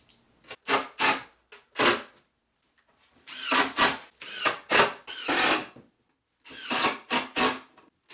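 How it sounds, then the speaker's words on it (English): A power drill drives screws through a table-saw-cut plywood piece into a grand piano skid frame, giving short loud bursts of whirring, some single and some in quick clusters, separated by silent gaps. "now it can be screwed onto the frame"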